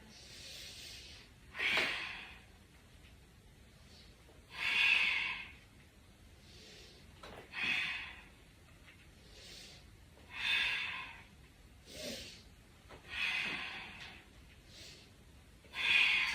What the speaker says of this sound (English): Inhale, belly to the knees. Exhale.